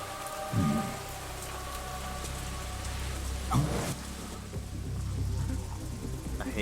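Rain in the video game Metal Gear Solid 2, a steady, dense patter of drops on surfaces under a low background hum, with a couple of brief heavier thumps partway through.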